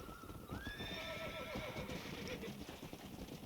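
A Kentucky Saddler horse in the Red Dead Redemption video game lets out a loud, drawn-out whinny that falls in pitch, heard alone and close over a steady outdoor background, with faint hoof clip-clop.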